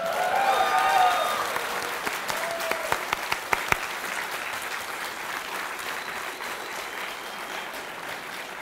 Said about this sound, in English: Everybody start clapping really loud